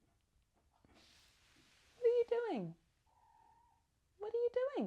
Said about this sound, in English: Making noise. Sorry, that's my cat.